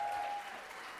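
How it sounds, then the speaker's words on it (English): Audience at the 2019 Cammy Awards ceremony applauding honorees, a brief, steady patter of many hands clapping at moderate volume. "Can we give them another round of applause?"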